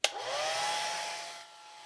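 A hair dryer blowing on watercolor paint switches on with a click and a rising whine, then holds a steady close whoosh with a constant hum before dropping slightly toward the end.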